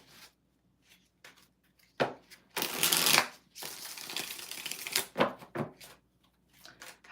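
A small deck of tarot cards is shuffled close by, with a few short riffling bursts and soft, flicking card slaps between brief pauses.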